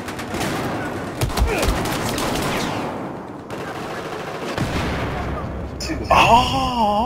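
Rapid bursts of automatic gunfire crack and rattle in Battlefield 4's Operation Locker map during close-quarters conquest play; the shooting is loud and sustained, and a voice speaks near the end.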